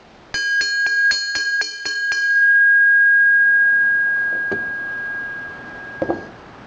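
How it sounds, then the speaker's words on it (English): A homemade bell made from a scrap disc brake rotor is struck in a quick run of about eight metallic hits, then rings on in a long, clear, sustained tone, with a couple of soft knocks near the end. "It's probably not as good as a bronze bell, but it still rings."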